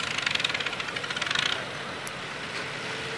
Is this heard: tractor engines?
yes